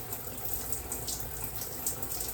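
Tap water runs steadily at low volume into a sink while washing with cherry and chia milk body wash, a soft continuous splashing stream with no voices.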